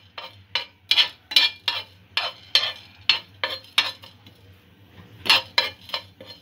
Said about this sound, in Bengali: মশলাটা একটু লাইট ব্রাউন হয়ে আসা পর্যন্ত ভেজে নেব